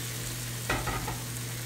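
Three medium chopped tomatoes hit a hot pan during a Kerala-style beef dum biryani, giving a steady frying sizzle with a brief burst of stirring near the middle, close and moderately loud, with no voices.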